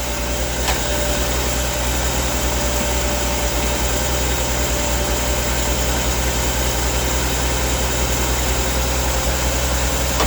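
Jeep CJ-7 engine running steadily close up, a continuous low rumble and hum with no pauses or clear rev swings.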